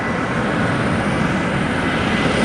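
A Southwest Boeing 737-700 jet, the short-bodied version, roars steadily at fairly close range, a continuous broadband engine rumble with a thin high whine, no voices.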